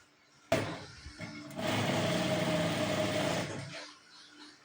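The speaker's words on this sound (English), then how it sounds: "we are going to sew it round" A sewing machine stitches around the side seam of a lined African print tote bag, running in one steady close burst of about two seconds after a few short starts, with no talking.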